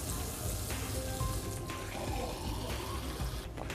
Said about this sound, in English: Now we'll take a sample of faucet water.